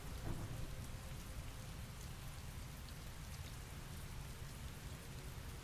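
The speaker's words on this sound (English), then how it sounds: "Heavy rain. It's been the same for weeks." Heavy rain pours steadily and evenly throughout, a dense continuous hiss with low rumble beneath, heard in the rain-soaked setting of the video game Heavy Rain.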